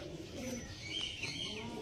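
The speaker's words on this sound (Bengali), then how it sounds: "চলো দেখিয়ে দিই তোমাদেরকে পায়রাগুলো।" Pigeons of a fancy breed kept for sale coo softly in a loft or market, low murmuring calls with faint chirps over background noise.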